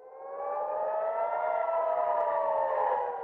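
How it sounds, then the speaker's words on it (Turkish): Civil defense sirens in Israel wail with a steady, sustained rising-and-falling tone, loud and continuous throughout with no voices. "Sirenler gece boyu çaldı."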